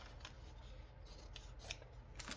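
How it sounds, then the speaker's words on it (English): Scissors cut fabric during slow hand stitching, a quick run of close, crisp snips and rasping slides, quiet and with no talk over them. "Oh yeah, those are my good scissors."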